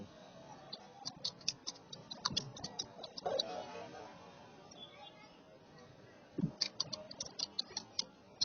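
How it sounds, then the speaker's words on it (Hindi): Fingers type on a computer keyboard, producing quick, crisp key clicks in two busy bursts separated by a quieter, muffled stretch in the middle. "टाइपिंग ही कर रहा है ना?"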